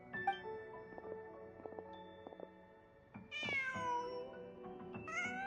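A cat in the video game Genshin Impact meows, with a few plaintive, rising meows alongside soft game music tones, fairly close and clear with no talk.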